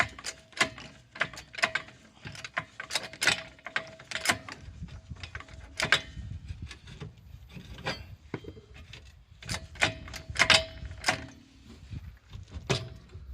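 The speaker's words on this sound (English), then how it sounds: "just jacking it back into place now so we can get the bolt in" A car jack works under a Mazda 3 with a broken rear spring, raising the rear suspension back into place with repeated sharp metallic clicks and ratcheting scrapes in an irregular rhythm, close by and with no talking.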